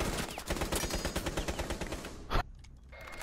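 Rapid automatic gunfire in Rainbow Six Siege, a close, loud stream of rattling shots for about two seconds ending in one sharp final crack, then near quiet.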